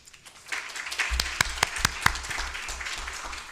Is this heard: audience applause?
yes